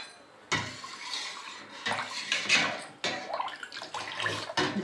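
Spoon stirring a thinned, watery mixture in a bowl in a home kitchen: continuous sloshing and swishing with clinks against the bowl, close and fairly loud, with no talk.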